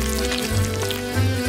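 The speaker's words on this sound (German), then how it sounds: "Anzünden und braten." Seafood and vegetables frying in oil in a pan on a kitchen stove sizzle loudly and steadily at close range, a dense continuous hiss with a low rumbling undertone and no voices.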